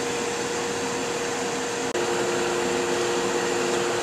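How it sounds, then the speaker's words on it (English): Wood lathe spinning a turned piece while a skew and parting tool shape its bottom, a steady close whirring drone with a constant hum, broken once by a tiny dropout. "I'm going to take a skew and my parting tool and shape that bottom up a little bit"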